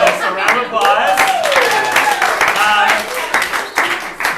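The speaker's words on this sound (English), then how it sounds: "So round of applause." Audience at a fringe comedy show clapping in a round of applause, lively claps mixed with cheering and voices, loud and close, with speech running throughout.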